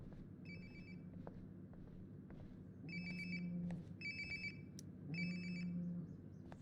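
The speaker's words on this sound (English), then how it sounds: "Sounds like my phone is definitely nearby." A mobile phone rings nearby in the Life is Strange: Before the Storm game, sounding in two or three short repeated ringtone bursts over a steady low ambient hum.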